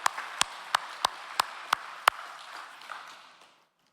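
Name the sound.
applause for a seminar speaker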